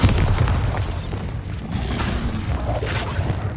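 A Bombarda blast spell explodes in the Hogwarts Legacy video game as a loud, sustained booming rumble that rolls on without pause for a few seconds.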